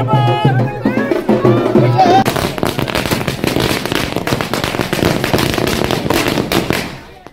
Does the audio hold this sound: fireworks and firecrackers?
yes